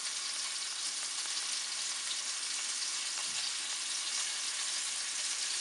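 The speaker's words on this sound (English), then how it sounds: "I'm just browning the outside. I'm not trying to make the meatballs get all the way through right now." Meatballs browning in a hot frying pan give off a steady, close sizzle with a faint crackle throughout and no talking.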